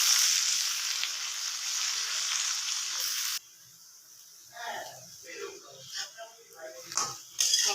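Kalmi shaak, a water spinach, hits hot oil with browned onion and dried red chilli, giving a loud hissing sizzle. The sizzle drops off abruptly partway through, and faint stirring and clinks follow.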